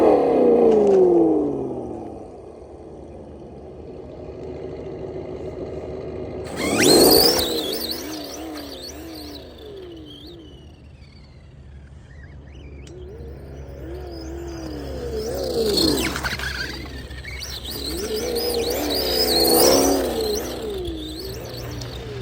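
Kyosho Outlaw Rampage Pro brushless RC trophy truck fitted with an ESS engine sound module emulating a 1969 Dodge Charger: simulated V8 idle rumble that surges into revving roars several times, with falling tones as it backs off.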